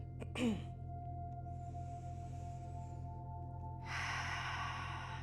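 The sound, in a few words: audible exhale during yoga breathing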